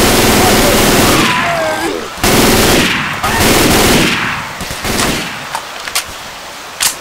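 Loud, sustained automatic gunfire from a shooter game against xenomorphs, a dense roaring barrage for several seconds that thins into scattered single shots, close up, with voices calling out over it.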